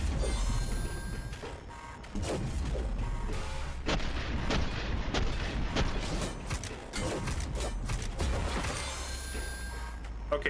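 Rapid gunfire from the first-person shooter SPRAWL, dense and continuous with sharp mechanical clacks and heavy impacts filling the whole stretch; no talking.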